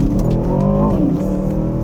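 An Aston Martin DBX 707 SUV engine in Sport Plus mode drones loudly from inside the cabin as it accelerates, its pitch rising and then dipping briefly.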